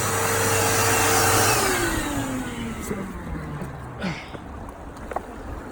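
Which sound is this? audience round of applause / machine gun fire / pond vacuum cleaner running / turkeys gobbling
pond vacuum cleaner running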